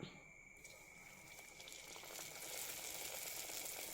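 Vada dough, a folded pirivada snack, dropping into hot oil in a home kitchen, giving a steady bubbling sizzle that rises and thickens over a few seconds, alone and without talk.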